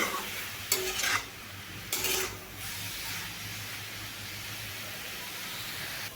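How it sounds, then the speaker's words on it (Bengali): Papaya pieces being stir-fried with salt in a pan: two quick scraping stir strokes near the start, then a steady soft sizzle and hiss that carries on alone. "নুন মিশিয়ে এভাবে ভালো করে আরও একটুক্ষণ আমি কষিয়ে নেব পেঁপে"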